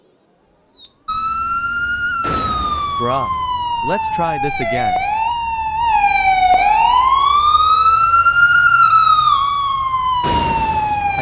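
Police car siren in the Roblox video game, a loud wailing tone sweeping up and down continuously close by, with a voice speaking briefly over it.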